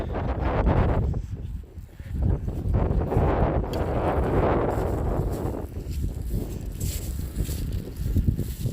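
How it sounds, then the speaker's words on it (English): Steady wind buffets the microphone outdoors, a continuous low rumble that swells and gusts throughout with no voices. "it's a little windy out here"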